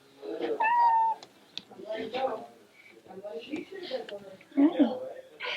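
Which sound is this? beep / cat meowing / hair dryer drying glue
cat meowing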